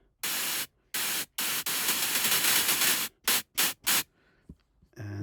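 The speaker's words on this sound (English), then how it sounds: "So if instead of our sine wave we would have a noise," Synthesized white noise bursts from a SynthMaker patch, the raw noise source for a Karplus-Strong pluck: a series of loud, harsh broadband hiss blocks switching on and off abruptly, a few longer stretches and several short bursts, with no voice.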